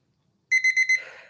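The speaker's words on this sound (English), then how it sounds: "Oh, apparently I started the timer there." A kitchen-style timer alarm goes off with four loud, rapid electronic beeps in quick succession, then rings out briefly, right after a quiet stretch with no talking.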